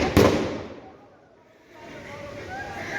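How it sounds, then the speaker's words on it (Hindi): A sky shot firework bursts loudly at a village Diwali celebration, with a sharp blast right at the start followed by a fading roar and distant crackle, as people talk in the background. "इनका स्काई शॉट जमीन में जा रहा है"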